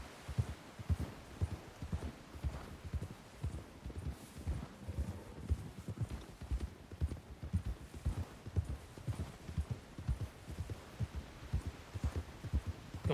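Several horses canter in single file through a RedM video game scene, a steady rapid clip-clop of hooves repeating throughout, fairly close and clear with a low rumbling undertone and no talking.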